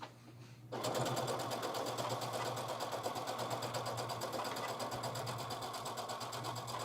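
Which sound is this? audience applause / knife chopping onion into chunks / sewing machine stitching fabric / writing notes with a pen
sewing machine stitching fabric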